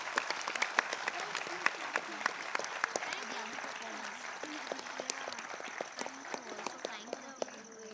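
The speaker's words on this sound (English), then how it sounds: "I think all our performers this evening deserve a huge round of applause." Audience applause after a traditional Rajasthani dance show at a school Indus Day event, with sustained clapping from a crowd and voices murmuring and calling underneath throughout.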